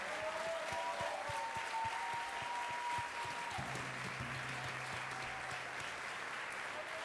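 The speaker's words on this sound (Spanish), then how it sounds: "Un aplausote, por favor." Concert audience applauding steadily and fairly loud throughout, with a sustained musical tone running beneath the clapping.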